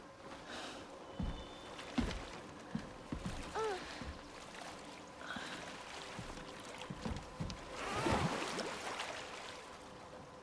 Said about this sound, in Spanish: ¿Disfrutas del suave oleaje, pequeño?